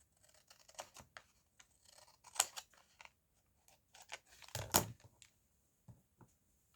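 Scissors trim the edge of a used envelope in a series of short, sharp snips and scratchy paper sounds, close and quiet, with brief pauses between cuts and no talking.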